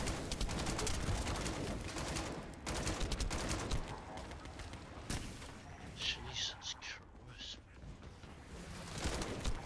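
Gunfire rattles in The First Descendant as rapid bursts of automatic shots, loud in the first stretch, thinning and softening midway, then picking up again at the end, with some talk underneath.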